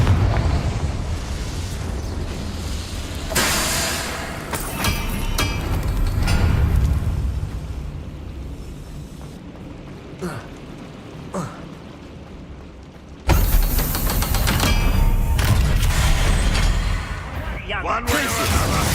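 A magic Confringo blasting spell explosion in a fantasy scene, a loud rumbling burst with roaring debris that fades, then a second sharp, heavy blast near the end.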